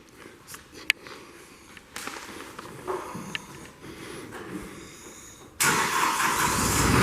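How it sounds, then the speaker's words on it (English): A Kohler engine on a 2015 Moffett M55.3 truck-mounted forklift cranks and catches, then settles into a loud, steady broadband roar that holds to the end after a quieter stretch of scattered knocks and shuffling. "Hear that Kohler fire up."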